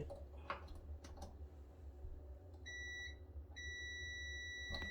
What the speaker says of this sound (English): If you hear beep, it means good.